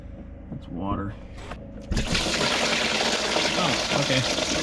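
Water gushes out of an old Kenworth K100 cabover truck that has sat unused for 30 years, first a faint trickle and splash, then a sudden loud steady pour that continues to the end.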